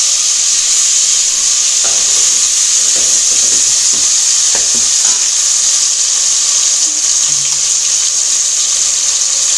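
Ground homemade masala paste sizzles steadily in hot oil in a pan over a village wood-fired stove for mutton curry, a dense continuous hiss with a few faint stirring knocks.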